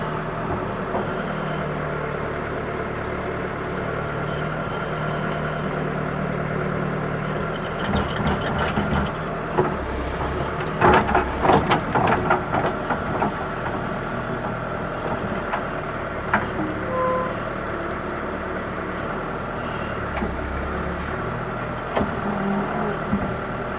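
A backhoe with an extend-a-hoe digs into dirt, its diesel engine droning steadily throughout with clanks and scraping bursts of the bucket near the middle, fairly close and loud.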